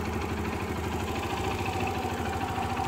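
A 2010 Yamaha YBR 125 Custom motorcycle idles steadily nearby, its small single-cylinder engine putting out an even, rapid low chugging with a light mechanical rattle. There are no voices.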